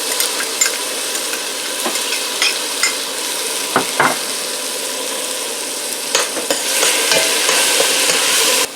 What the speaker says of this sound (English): I just want to saute this just for about a minute